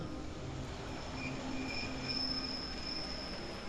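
A wooden roller coaster, a scenic railway, runs steadily on its track, with metallic wheel squeals rising above a continuous clattering roar throughout.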